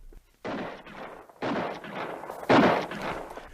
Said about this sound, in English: Suddenly I heard shots far ahead of me.